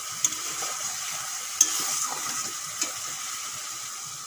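Spices are sautéed with mustard paste in a pan, a low, even sizzle broken by a few sharp clicks of a spoon against the pan, with no voices.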